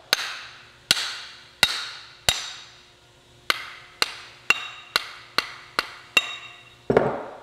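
Hammer blows knock a wooden handle out of an axe head: about a dozen sharp, ringing metallic strikes, spaced unevenly then quickening, each with a short decay, ending in a duller scraping knock.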